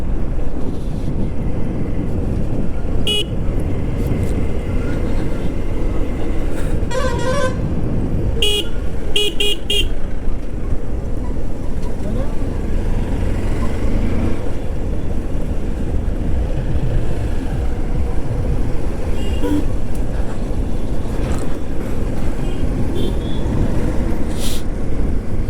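Heavy highway traffic heard from a motorbike on a solo ride toward Dhule, with a steady engine and wind roar throughout and several short car horn toots cutting through, mostly in the first half.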